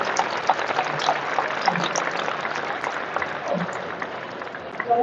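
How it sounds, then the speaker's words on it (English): Sustained clapping from a large audience at a packed maps exhibition talk, an even wash of many hands lasting several seconds, moderately loud and fairly distant. "So can I please have a massive round of applause for Abby and Tim?"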